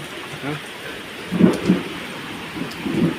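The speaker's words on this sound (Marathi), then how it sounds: "विजा कडकडायला लागल्यात" Rain patters steadily while low rumbles of thunder roll in twice, each a short heavy swell over the downpour.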